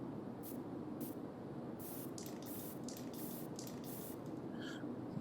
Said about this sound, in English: that's the spray can